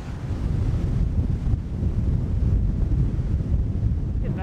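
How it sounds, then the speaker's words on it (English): Strong wind on the Isle of Man coast batters the microphone in a heavy, continuous low roar with gusting surges, loud and close throughout. "the wind is blowing my body around so much I can't hold my camera steady"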